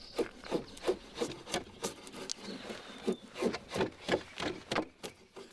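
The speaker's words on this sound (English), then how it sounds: "need to peel the bark off. The ideal tool is a draw knife." A draw knife peels bark from a wooden tipi pole in rapid repeated rasping strokes, each a short scraping rub in an even rhythm, close and clear with no talking.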